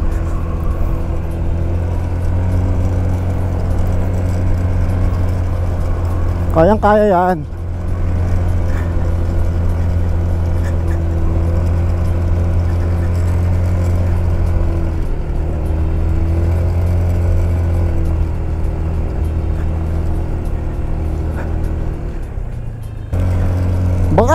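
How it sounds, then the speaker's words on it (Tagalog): A steady, loud motorcycle engine drone labors continuously up a steep mountain road at Daang Kalikasan, Mangatarem, Pangasinan, with a brief rising whine partway through and a short spoken remark over it. "Persahan natin ng konti itong motor."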